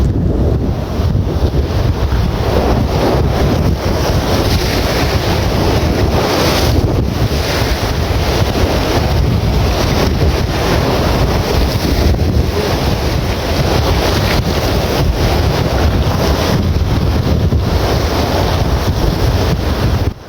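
Strong wind roars across the microphone while heavy waves surge and crash along a fishing shore, a loud, steady, unbroken wash of water and gusts with no voices.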